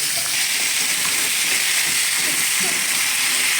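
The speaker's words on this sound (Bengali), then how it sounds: "তো আলুগুলো দিয়ে নিই" Potatoes drop into plenty of hot oil in a home kitchen pan for a Bengali potato dish, giving a loud, dense, continuous hissing sizzle that fills the whole short stretch.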